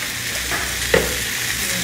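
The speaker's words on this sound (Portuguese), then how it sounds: "Aí deixa eu dar uma fritadinha, não pode fritar muito" Pasta frying with sensitive garlic flakes in a hot pan, giving a loud continuous sizzle with one brief scrape or clink near the middle and no talking.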